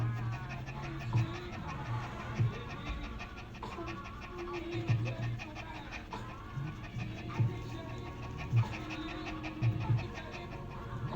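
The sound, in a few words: dog panting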